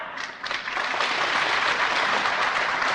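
Audience at a company's thirtieth anniversary event breaking into warm applause, dense continuous clapping from a large crowd that builds quickly and stays full and steady.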